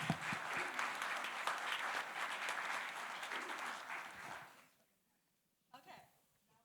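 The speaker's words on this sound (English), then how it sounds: "Thank you for the applause" Applause and cheering from an audience at a spoken word poetry slam, strong clapping that fades away to near silence, followed by a brief murmur of voices.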